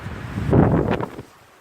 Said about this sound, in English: That was a strong wind that just came by.